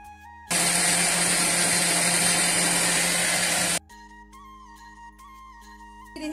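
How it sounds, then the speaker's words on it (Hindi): A mixer grinder grinding rice and lentils roars loudly for about three seconds, a dense whirring grind that cuts off abruptly, leaving a quiet hum and faint clinks. "ये देखो मैं मिक्सी में डालत हूँ चावल और दाल ना"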